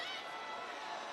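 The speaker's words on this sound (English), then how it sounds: "Crowd doesn't like the personal foul called against Moore on the block shot from behind." Arena crowd noise at a women's college basketball game, Tennessee Lady Vols against Stanford, a steady loud wash of voices reacting to a personal foul call, sustained throughout without a break.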